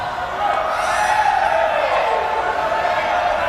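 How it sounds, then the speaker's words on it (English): A basketball crowd at a 1993 men's game against Saint Joseph's swells into cheering around a free throw, a broad sustained roar that rises after a brief quieter start and stays loud. "Crowd coming alive on Scheidler's second free throw"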